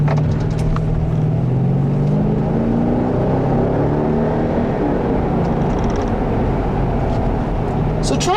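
Engine of a 2007 Mercedes-Benz SL550, a rear-wheel-drive roadster with a 7-speed automatic, droning steadily during a test drive with rising and falling tones, accompanied by road and wind noise; a person talks over it.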